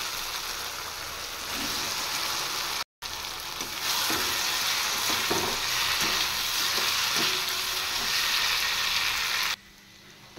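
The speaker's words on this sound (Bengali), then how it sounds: "এবার আমি ভেজে রাখা গাটকচু আর আলু দিয়ে দেব।" Fried taro and potatoes sizzle in a pan of cooked spice mix, a steady close hiss with soft clinks of stirring, briefly cut out, then louder frying before the sound drops away.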